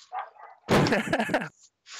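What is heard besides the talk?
dogs barking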